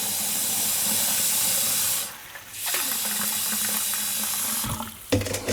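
Cold water pours steadily into a bowl to make salted cooking water for linguine with clams, giving a loud, continuous rushing hiss that briefly stops and then resumes near the end, with no talk over it.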